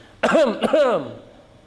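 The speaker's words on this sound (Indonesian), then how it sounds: "Begitu sudah masuk, itu disunnahkan untuk berdehem misalnya." A person clears their throat twice in quick succession, short and close.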